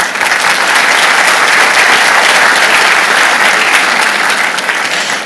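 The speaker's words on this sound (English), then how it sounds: "I'll just ask everyone to hold their applause to the end" Sustained audience applause fills a large hall at a medical school commencement ceremony, steady and dense from start to finish with no speech over it.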